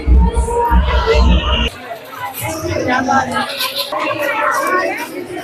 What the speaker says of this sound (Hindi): ये देखो भाई, कितनी भीड़ मच रही है